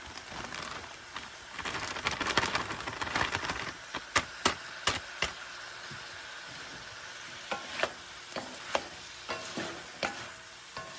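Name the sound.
vegetable mix sautéing in a pan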